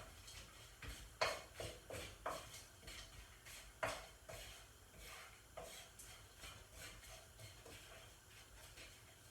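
A spoon scrapes and stirs chopped almonds and oats in a pan over low heat, making a rhythmic series of quiet scraping strokes with faint sizzle beneath, close and fairly soft with no talk.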